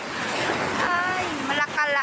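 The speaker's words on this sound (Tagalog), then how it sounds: "medyo malakas-lakas ang alon" Fairly strong sea waves washing onto a sunny beach give a steady wash of surf, with a voice talking faintly over it.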